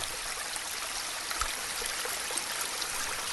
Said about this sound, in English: At the bottom of the mountain, the waterfall fills a precious pool